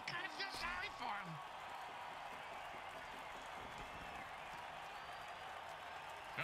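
Steady crowd roar and applause from the home stands in a football video game after a missed short kick, a continuous wash of noise with brief voices near the start.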